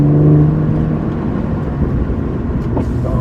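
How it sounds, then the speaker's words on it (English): A turbocharged BMW M car drives along with a steady engine drone and road noise heard from nearby, briefly humming at the start, with no talking. "All the new M cars with the turbo engines, they just don't sound that great from the outside."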